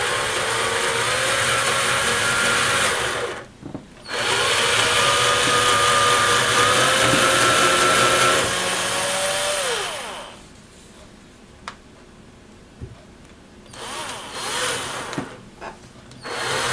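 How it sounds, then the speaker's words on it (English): Power drill boring into wood while attaching the front of a MAME arcade cabinet: a close, loud whirring motor starting and running for several seconds, a brief stop, another long spin that pitches down, then quieter intermittent bursts. "If you start off real slow, the tip of the drill bit will get a good bite,"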